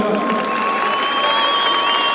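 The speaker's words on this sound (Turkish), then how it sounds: "Atanamayan öğretmenimiz Gamze Hanım'ı kocaman alkışlar mısınız lütfen?" A large crowd at an outdoor political rally in İzmir claps in dense, sustained applause, with cheering mixed in. The sound stays loud and even throughout.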